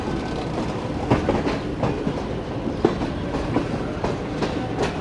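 Shalimar Express train in Pakistan switching from the up line onto the main down line, steady rumbling roll with repeated clickety-clack wheel beats over track joints and points, close and continuous with no talk.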